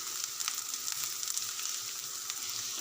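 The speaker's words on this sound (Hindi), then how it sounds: "इस पॉइंट पे हम इसमें डालेंगे थोड़ी सी हरी मिर्च" Green chillies sizzling in hot oil in a pan of samosa filling, a steady close hiss of frying with light crackles, heard alone without talk.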